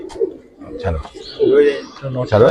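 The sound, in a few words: Giribaz pigeon cooing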